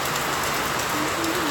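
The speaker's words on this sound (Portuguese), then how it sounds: "E chuva, e deixa a chuva, que a chuva é a alegria do céu." Rain falls in a dense, steady hiss, loud and close throughout, with a faint low tone rising underneath toward the end.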